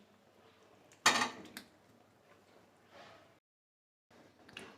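Ash gourd pieces tipped into a pot of country chicken curry: one sharp clattering drop with a brief rattle, then faint scraping and a soft clink after a moment of quiet.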